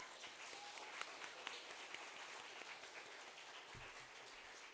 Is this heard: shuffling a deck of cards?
no